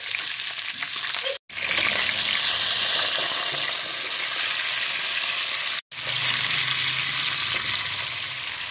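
Chicken pieces hit golden brown onions in a Punjabi-style curry pot, a loud, steady frying hiss that cuts out twice briefly and returns, with no talking.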